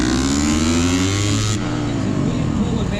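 Several dirt bike engines rev hard and loud at the start of a GNCC off-road race in Snowshoe, West Virginia, a dense, sustained roar that shifts partway through as the bikes pull away.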